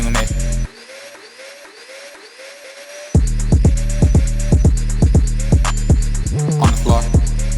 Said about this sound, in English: Gotta vacuum it.